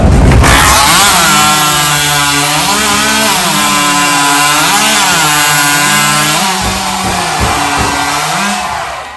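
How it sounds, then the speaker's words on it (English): A very loud hot saw chainsaw at a timbersports competition screams continuously, its pitch rising and falling as it revs and bites into wood, then winds down briefly near the end. "these chainsaws are known as hot saws, and they're by far the loudest in the competition"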